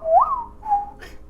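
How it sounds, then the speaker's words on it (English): A person whistles to call a dog: two clear rising-then-held whistle notes, close and fairly loud, followed by a brief soft breathy burst. "and I did my whistle"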